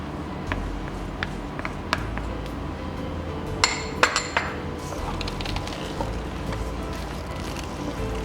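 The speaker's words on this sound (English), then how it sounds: "Mix everything together to combine." Corn fritter batter with cornstarch being mixed in a bowl, with scattered clinks and taps of a utensil against the bowl over a steady low background, a few sharper knocks midway.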